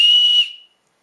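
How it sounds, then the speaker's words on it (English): A single loud, shrill blast from a bright orange plastic survival-kit whistle, from an Origin S.O.L. survival kit, held for about half a second and then cut off, close up and alone. "I guess I'll blow the whistle for you, so I'll see how loud it is."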